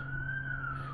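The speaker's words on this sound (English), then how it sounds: "See, that's the siren, so they must be going to somewhere." A siren wails at a distance, its steady tone slowly bending in pitch as the vehicle passes, faint and unaccompanied.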